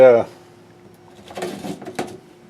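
A storage compartment door on a 1995 Roadtrek Class B RV opens with a short, resonant clunk at the start. A quiet pause follows, then a few rattling clicks and knocks.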